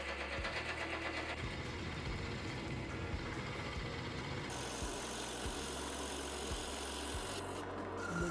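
Drill press driving a 3.5-inch Forstner bit to core out an ash wood blank for a hollow form, a steady mechanical rumble with repeated low thumps and a grinding cut, quiet and continuous without talk.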